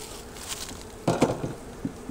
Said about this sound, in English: you want to smoke the bees down before you put your lid on